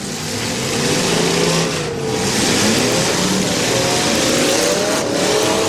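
A light blue demolition derby car at a firemen's festival derby in Greenwich revs hard and continuously, its loud engine surging and dipping up close, with a brief tire squeal.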